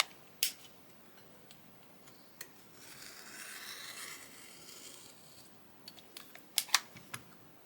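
Quilt fabric is cut along a ruler to trim its left and right sides. A faint, quiet scraping swish runs in the middle, with a few sharp clicks and taps from handling before and after.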